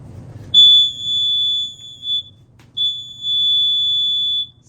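A household smoke detector goes off during door-painting work, sounding two long, piercing high-pitched beeps of about two seconds each, separated by a short gap, close and loud in a quiet room.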